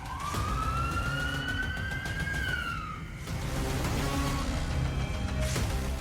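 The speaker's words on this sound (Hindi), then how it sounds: "क्या मॉस्को में आधी रात सायरन बजा?" A loud siren wails, its pitch sweeping up and then dropping, with traffic rumble underneath and a second siren tone joining near the end.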